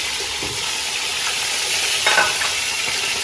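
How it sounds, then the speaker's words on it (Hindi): Steady sizzling from a pan of spicy chicken pulao as tomato and green chillies previously boiled in stock go in, a continuous close hiss with a brief louder flare of frying partway through, no talking. "अब इसमें मैं एक टमाटर और 4-5 सब्ज मिर्च डालने लगी, जो मैंने बॉईल किया था यखनी में।"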